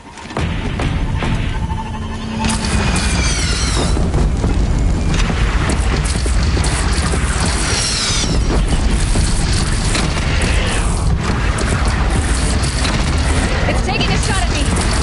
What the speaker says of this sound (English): Take up a cannon!